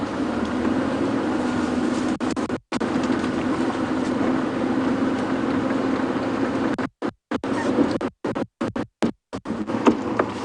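An old safari vehicle's engine runs on an evening game drive, a steady low rumble held throughout. The sound cuts out abruptly several times near the end.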